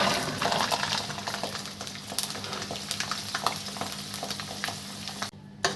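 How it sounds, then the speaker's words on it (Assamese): Garlic pours into hot oil in a pan and sizzles, a close crackling hiss with scattered pops and stirring scrapes that gradually settles, ending in a short quiet gap. "এতিয়া ইয়াত মই নহৰুখিনি ঢালি দি দিছোঁ।"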